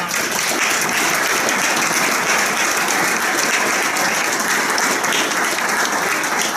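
Dense, continuous applause fills the room at a police awards ceremony, holding steady and loud throughout with no speech over it.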